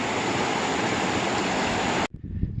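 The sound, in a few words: Whitewater River flowing water at trail crossing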